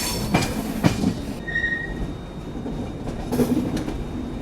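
The Mandovi Express rolls into Thivim railway station, its carriages rumbling and clattering close by with wheel squeals and brief metallic screeches as it slows, with no voices.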